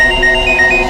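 A phone rings in a short burst of bright, repeating electronic tones. The sound is loud and close, with no voices over it.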